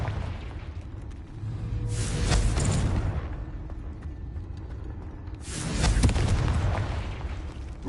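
Two booming Confringo spell explosions in the Hogwarts Legacy video game on PS5, each a loud rushing burst with a whooshing tail, separated by a few seconds of rumbling background.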